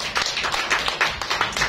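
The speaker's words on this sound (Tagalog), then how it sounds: "Palakpak mga babae" Women in a church congregation clap together during a Christmas sermon, a steady run of quick, fairly loud hand claps with a rhythmic, slightly uneven beat and no voices.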